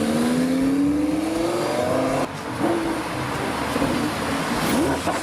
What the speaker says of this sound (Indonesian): Ada mobil balap.